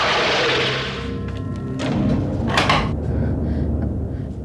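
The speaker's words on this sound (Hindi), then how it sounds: "दरवाजा क्यों बंद किया?" A door at a doctor's home is pulled shut, with a rushing swing followed by a couple of dull thuds and knocks at close range, and no talk.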